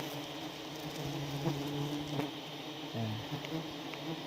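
Bees buzz steadily around wild honey bee trees high in a forest, a continuous insect drone with faint tonal hums shifting now and then, heard alone without talk.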